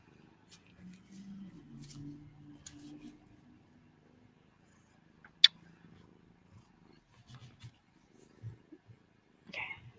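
A content cat purring softly and close by, a faint low rumble that comes in stretches, broken by small clicks and scattered quiet sounds.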